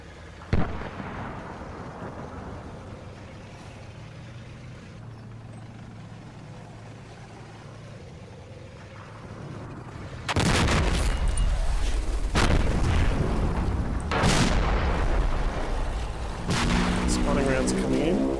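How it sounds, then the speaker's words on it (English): Artillery spotting rounds burst in the wartime strategy game Combat Mission Final Blitzkrieg, a sudden heavy boom lifting a low rumble into sustained loud crashes and a few sharp follow-up impacts over a steady background din. "Spotting rounds are coming in."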